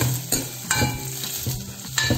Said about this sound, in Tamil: வெங்காயம் போட்டாச்சு. இப்போ வதக்கிக்கோங்க.